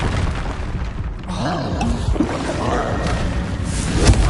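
A Confringo fire spell bursts in the Hogwarts Legacy video game: a dense, rumbling low blast with crackling texture, ending in a sharper impact near the end.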